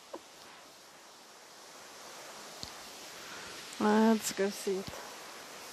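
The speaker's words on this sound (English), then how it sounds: "If you can hear a buzzing sort of sound, that's because we are getting close to the waterfall." Steady broadband rushing of a waterfall inside the Eden Project rainforest dome, heard from a distance as a soft, even hiss, with a person speaking briefly near the end.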